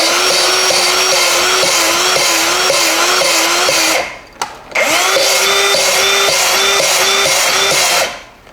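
A power sanding tool works inside a flooded Mercruiser marine engine's parts, a loud close steady whine that drops briefly midway and then resumes, with no talk.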